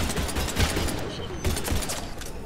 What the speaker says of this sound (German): Irgendwie ist da ein Geschütz.